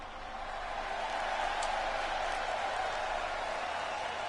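The crowd at a steel cage wrestling match keeps up a steady, distant roar of cheering and applause that holds level throughout.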